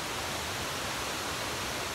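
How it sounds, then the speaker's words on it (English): A pretty big waterfall reached on a hike gives a steady, soft broadband rush of falling water, faint and constant throughout with no voices. "So we were hiking and we just got to this waterfall."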